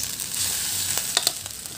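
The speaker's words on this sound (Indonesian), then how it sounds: "kemudian goreng lagi sebagiannya sampai selesai" Long bean and pepper fried rice frying in a pan: a steady, loud, bright sizzle with a few quick scraping stirs near the end and no talking.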